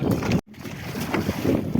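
A boat moving across the water of Khambhala dam gives a steady rumbling drone with wind buffeting the microphone, broken by a brief drop out.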